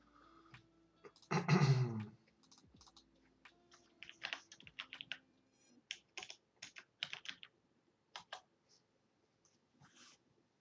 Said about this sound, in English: So typing in PyDoc